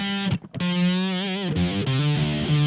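Electric guitar through a Boss GT-100 amp model with the gain and bottom end turned up, playing sustained, heavily distorted notes that slide between pitches, loud and close with a brief gap near the start.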